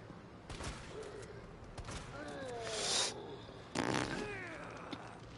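Gunshots in the Resident Evil video game, set in Raccoon City, ring out as a few sharp, loud bursts spread across the moment, with a voice talking over and between them.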